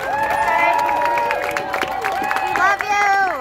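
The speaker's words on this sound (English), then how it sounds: "So let's please give her a round of applause." An audience in Athens, Georgia applauds and cheers loudly, with crowd noise, whoops and some voices rising over steady clapping.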